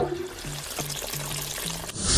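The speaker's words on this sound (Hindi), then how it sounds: "क्या आप कहना चाहती हैं कि मैं उस फ्लशर का यूज करके इस वाटर टैंक का सारा पानी बाहर निकाल दूं?" Water rushing out of a water tank through a flusher, a continuous hissing gush with a few low gurgles, close and steady before cutting off abruptly near the end, no voices.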